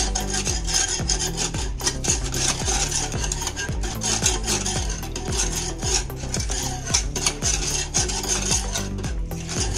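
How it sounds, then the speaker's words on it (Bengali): Milk, egg yolks and sugar being whisked together in a bowl, a loud, close, continuous rhythmic rasping of strokes repeating steadily throughout. "আমি এখানে হাফ লিটার দুধ নিয়েছি আর 2টা ডিমের কুসুম একসঙ্গে মিশিয়ে নেব, চিনি দিব।"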